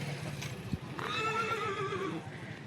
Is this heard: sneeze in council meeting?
no